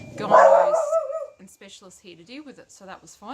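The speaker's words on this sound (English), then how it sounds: "sorry, that's my dog" A single loud dog bark or yelp sounds close by, followed by someone talking indoors.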